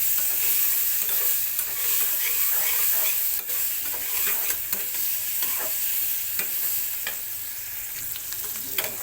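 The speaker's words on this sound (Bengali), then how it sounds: "এখন এখানে আমি দিয়ে দেবো হচ্ছে চিংড়ি, ছোটো চিংড়ি। এটাকে আমি মিশিয়ে নেব।" Small shrimp stirred in a frying pan, with a steady loud sizzle of hot oil throughout and frequent scraping clicks from the stirring, close up.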